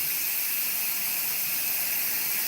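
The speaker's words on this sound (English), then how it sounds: "I don't know if you can hear the steam vent that I just opened up." Steady, loud broadband hiss from the open steam vent of an Instant Pot releasing pressure, continuous and close, with no talk over it.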